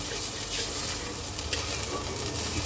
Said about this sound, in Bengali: এখন আমি দিয়ে দেব ঝোলের জন্য জল